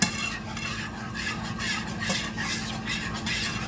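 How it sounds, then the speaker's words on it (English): Sauce for lasagna whisked in a pan, giving a continuous brisk scraping and swishing with light metallic clatter against the pan, close and steady throughout. "I'm just gonna whisk it."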